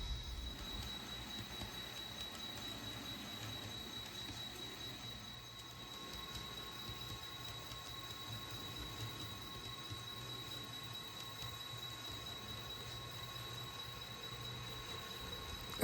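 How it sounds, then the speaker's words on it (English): A Santa Fe passenger train pulled by Engine 40 rumbles low and steady as it pulls away from Granbury Station, Texas, with a faint high-pitched whine held throughout and no voices. "Engine 40 eases train number 8 out of Granbury"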